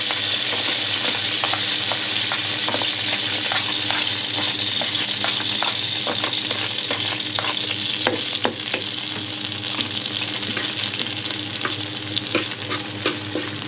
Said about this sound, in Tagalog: sumasagit na yung bawang